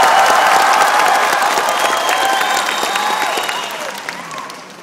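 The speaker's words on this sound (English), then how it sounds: "Some of you didn't stop clapping the moment I did it." A large fan convention audience claps and cheers loudly, with whoops and shouts mixed into dense, continuous applause that slowly fades over a few seconds.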